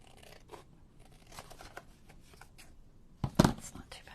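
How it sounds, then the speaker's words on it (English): Scissors trim the edges of paper for an Alice in Wonderland junk journal, making faint, quick snipping and rustling sounds close up, followed by one louder crisp cut or crunch near the end. "we're just going to try to do it with scissors"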